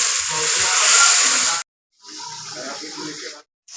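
Water splashes in a strong hissing rush onto a sizzling spice mixture in a cooking pan for goat meat curry. The pour breaks off briefly, resumes at a lower level, then stops again.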